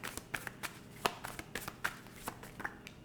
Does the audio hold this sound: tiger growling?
no